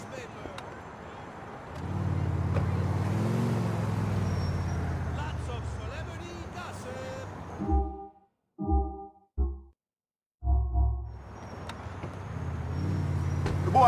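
A car driving in Grand Theft Auto IV, a steady engine and road hum that cuts out into choppy bursts and silence midway before resuming, with voices talking over parts of it.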